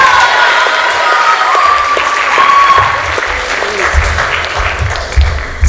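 Audience applause rings out after a dance performance at a Bharatanatyam arangetram, steady and sustained clapping from a sizable crowd filling the hall for several seconds, with faint voices underneath.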